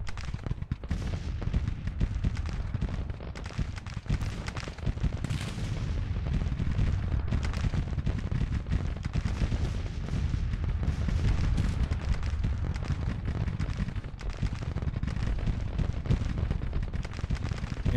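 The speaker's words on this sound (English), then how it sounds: "Some supporting fire coming in from Pierce." Dense, continuous battlefield gunfire and cannon-like booms in the Civil War strategy game Grand Tactician, a loud rolling roar of volleys and blasts sustained throughout with no letup.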